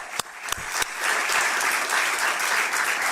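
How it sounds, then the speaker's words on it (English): A few separate claps start, then a crowd at a Florida bill-signing event breaks into steady, dense applause that carries on at an even level. "Give him a round of applause."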